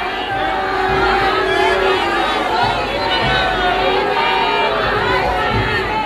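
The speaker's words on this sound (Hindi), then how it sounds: "देखिए जयकारों से गूंज उठा है सब" A crowd of devotees packed into narrow lanes welcoming Acharya Mahashraman at Gulab Bhawan keeps up sustained chanting and jubilant calls, a dense steady roar of many voices mixed with chatter.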